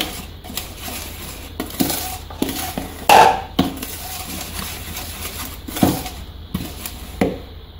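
Batter for orange muffins made with a single egg being stirred in a bowl, a utensil scraping and clinking against the sides in irregular strokes, close and moderately loud, with no talking.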